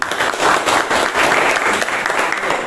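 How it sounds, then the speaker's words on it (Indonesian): A classroom group claps for a student, a brief burst of dense, even applause lasting a couple of seconds, close and loud. "Kita kasih tepuk tangan dia dulu."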